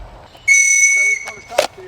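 A sharp, single sustained whistle blast cuts through police firearms training, loud and close, followed by brief clicks and a short burst of noise.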